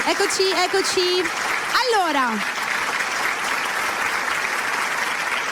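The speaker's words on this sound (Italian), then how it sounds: "questi applausi infiniti che a noi ci piacciono, non devono finire mai" Studio audience applause on a live Italian entertainment show, a steady wash of clapping that continues throughout, with a voice talking over it at the start.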